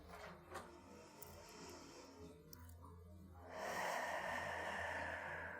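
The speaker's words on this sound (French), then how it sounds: "on va commencer à produire le son des vagues avec notre respiration" Slow, steady ujjayi yoga breathing with a soft, airy, wave-like rasp, growing louder and fuller partway through as a long breath is drawn, close and alone.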